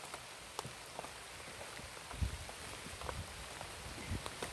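Heavy rain falls steadily on a forest survival shelter, a dense patter of drops with occasional louder splats and faint rustling, close and continuous with no voices.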